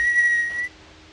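A person whistles in imitation of the penny whistle solo from a song, one clear, steady, high note held for just over half a second with a slight pitch shift, followed by quiet.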